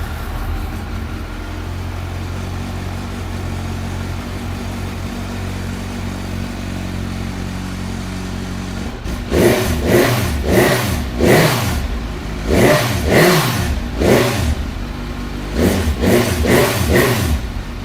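A Yamaha R1 superbike with stock exhaust and carbon fibre parts idles with a low steady rumble, then is revved hard in several sharp bursts that rise and fall, loud and close.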